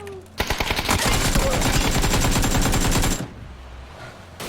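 Rapid automatic gunfire from a PUBG match, a loud close burst of dense shots lasting about three seconds, then stopping abruptly into quieter game ambience.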